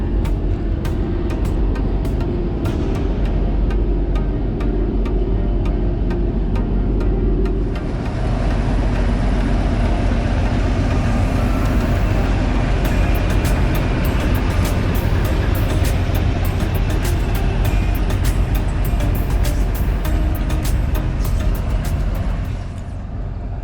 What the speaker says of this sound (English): Today's train is formed of a CP 1400 series diesel locomotive.